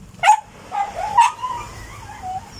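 A dog gives a few short, high yips and barks close by, with brief whimpering between them.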